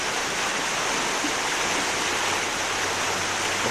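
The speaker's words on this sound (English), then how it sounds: "There's a little river coming out here." A small river flowing near the lake at Hallstatt, Austria, gives a steady, close broadband rush of running water that holds without pause throughout.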